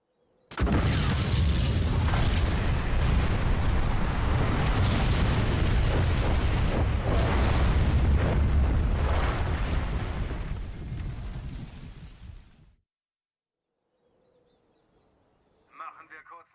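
Rockets being blown up in the strategy game R.U.S.E, a sustained, loud rumbling barrage of booms and blasts that fades out around twelve seconds, followed by near silence and a faint electronic blip.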